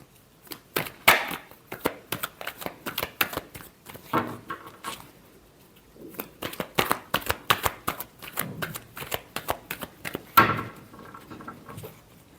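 Tarot cards being shuffled in steady bursts of dry papery riffles and slaps, close and fairly loud, with short pauses between runs and no talking.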